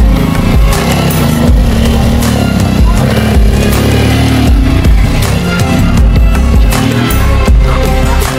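Motorcycle, a super bike ridden off-road over a big obstacle, its engine revving hard as the throttle opens, loud and close with surging bursts and rough clatter over the terrain.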